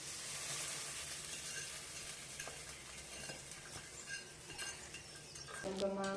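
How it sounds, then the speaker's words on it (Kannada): Curry leaves and spices sizzle in hot oil as a tempering for fish sambar, with stirring and clinks of a metal utensil against the pan, close by and fairly quiet. "ಇದೊಂಚೂರು ಒಗ್ಗರಣೆ ಫ್ರೈ ಆಗಲಿ"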